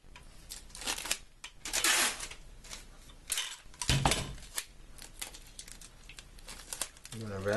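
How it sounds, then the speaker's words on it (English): Adhesive tape crinkles and rips in close, uneven bursts as it is pulled and handled, with someone talking throughout. "Take some more tape."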